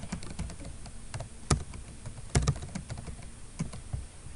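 Rapid typing on a computer keyboard during a lecture on a citation manager, with quiet clicks in an irregular stream and a few louder key strikes standing out, heard up close with no talking.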